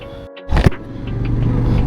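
A motorcycle engine hums steadily while riding, with a brief louder burst of noise early on, then a constant low drone as it rides along.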